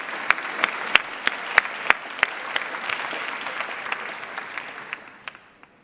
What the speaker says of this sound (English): So I think we should give all the nominees a great round of applause.